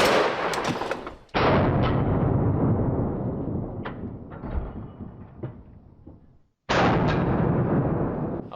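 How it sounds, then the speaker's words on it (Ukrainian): A very loud, sharp 50-caliber SLAP round fired from a Serbu rifle blasts twice, each crack followed by a long rolling echo that slowly decays in open air. "Поїхали, стріляю."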